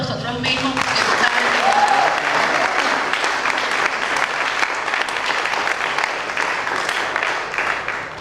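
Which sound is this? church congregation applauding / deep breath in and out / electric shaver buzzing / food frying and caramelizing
church congregation applauding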